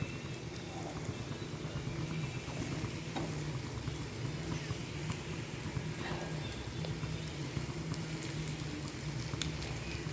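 Elephant foot yam frying in a pan crackles with dense, continuous faint sizzling and popping bubbles, steady throughout with no talking.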